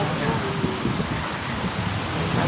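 Heavy rain pours down in a dense, loud, continuous roar, with water running along the roads.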